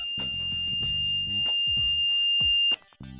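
A carbon monoxide monitor alarm sounds a steady, piercing high tone over a chopped, buzzing pulse pattern, loud and close, cutting off near the end before a brief buzz resumes.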